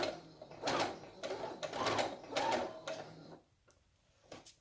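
A sewing machine stitches along the belt of a trouser, running in three or four close bursts with short pauses between them, then stopping briefly before a final short run. The machine sounds alone, with no talk.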